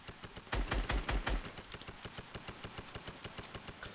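Gunfire in Fortnite Season 9 comes as a fairly faint, evenly spaced string of rapid shots, with a heavier cluster of booming bursts near the start before the regular pattering continues.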